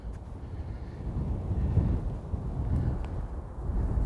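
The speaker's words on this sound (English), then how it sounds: "Yeah, it's windy." Wind gusting outdoors near woodland, a steady low rumbling buffet against the microphone that swells and eases over several seconds, loud and close, with no voices.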